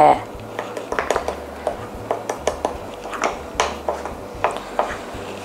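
A spoon clinks and taps against a coffee mug while mocha mug cake batter is stirred. The metallic ticks come in an uneven, quick rhythm, close and moderately loud, over a low background hum.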